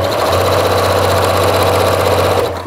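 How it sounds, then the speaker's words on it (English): A sewing machine runs steadily at high speed while sewing down the edge of an upcycled thrifted quilt, giving a loud, continuous motor hum and rapid needle buzz that cuts off right at the end. "I'm gonna sew down."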